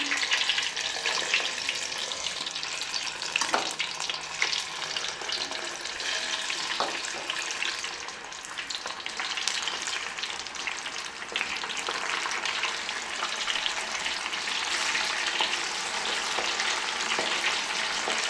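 Onions frying in hot coconut oil for a homemade hair oil, a steady, dense sizzle with faint crackles that holds evenly for nearly twenty seconds.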